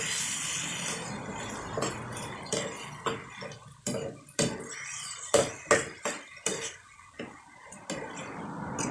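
A spatula scrapes and knocks rhythmically through a beef and bamboo shoot stir-fry in a pan, repeated close clacks and scrapes over a low sizzle, without talk.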